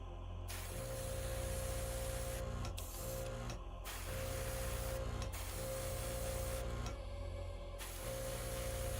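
An airbrush sprays paint onto a hobby model, a faint, steady hiss that cuts off in several brief pauses between passes.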